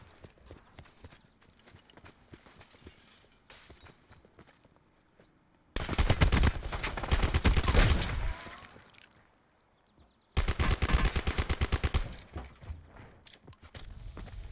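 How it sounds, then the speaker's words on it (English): Gunfire in the Call of Duty Blackout video game comes in two loud bursts of rapid automatic shots, each lasting a couple of seconds, set between quieter stretches of footsteps and movement. "even before I even heard the shooting over there at SoCal"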